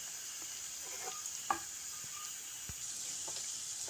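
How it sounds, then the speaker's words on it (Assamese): Fish and banana flowers stir-fry in hot oil with a constant soft sizzle, broken by a few scraping clicks of a utensil stirring the pan. "এতিয়া আমি মাছটো দি কিনে কলফুলখিনি লৰাই দিছোঁ।"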